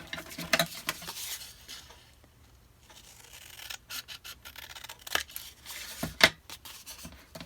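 Scissors or a blade trims the edge of a paper file folder along a ruler, a few soft, faint snips and rustles in a quiet room.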